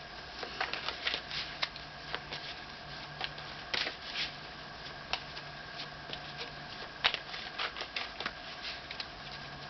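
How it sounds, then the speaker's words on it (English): Close, soft riffling and flicking of an Archangel Michael oracle card deck being shuffled, a steady patter of card edges with brief sharper snaps, alone with no talk. "I'm going to pull one from the Archangel Michael deck and just give you one card with some advice."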